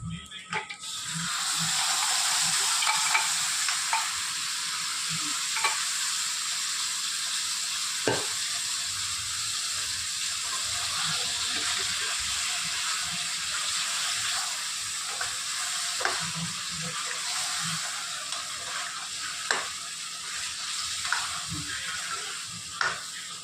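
Goat mutton frying in released oil in a pan makes a loud, steady sizzling hiss throughout, punctuated by irregular clicks and scrapes of a spatula stirring the meat.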